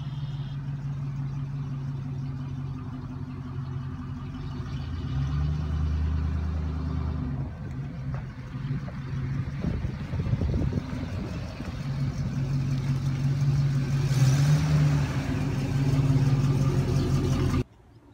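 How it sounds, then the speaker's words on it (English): A 1969 Oldsmobile Toronado with a 455 cubic inch V8 idles steadily and close by, a low, even rumble with a slight rise in revs partway through, and no voices. "'69 Oldsmobile Toronado."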